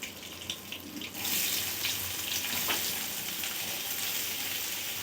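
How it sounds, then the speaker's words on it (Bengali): Chopped onions dropped into hot oil with nigella seeds burst into a loud, steady sizzle about a second in. The frying hisses on evenly to the end with light stirring and no talk. "তো পেঁয়াজগুলোকে একটু ভালো করে ভেজে নেব।"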